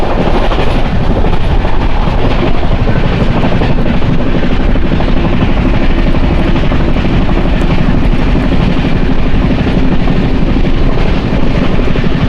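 The Janmabhoomi Superfast Express 12806, running from Lingampalli to Visakhapatnam at about 120 km/h in the rain, roars past up close in a loud, steady rush of wheel and wind noise with rapid clattering underneath.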